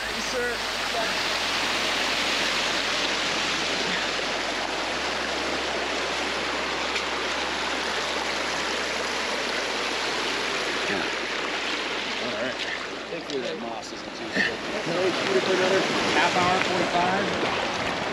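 A waterfall on a stream along the Arizona rim pours in a loud, steady broadband rush that fills the whole stretch, close by, with brief shifts in the splashing near the end and a faint low hum beneath.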